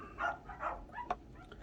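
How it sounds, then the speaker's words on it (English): A pet dog barks outdoors near water, a few soft yaps heard faintly at a distance over low background noise. "if you hear my dog barking"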